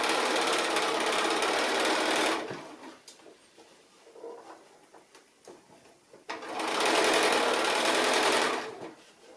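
A sewing machine runs a straight stitch in two bursts of fast, even whirring and chattering, close and clear, with a quieter pause of small handling clicks between them.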